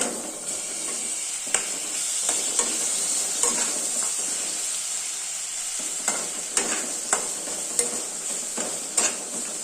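Tomato and onion sizzle steadily as they fry in a pan, with a spoon scraping and stirring through them in repeated close clicks and scrapes, loud and continuous with no talk.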